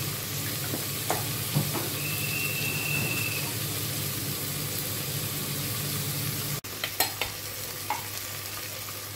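Steady hiss of a spoonful of oil sizzling in a pan for tempering buttermilk curry, with a few faint clinks and a brief interruption partway through.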